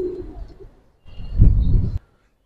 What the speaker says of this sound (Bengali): এরপর কিছু হাই ফ্লার কবুতর দেখাবো